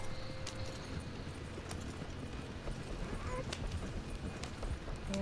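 Horse hooves clip-clop at a quick, steady gallop through Red Dead Online, a continuous rhythmic pounding close by with talk over it.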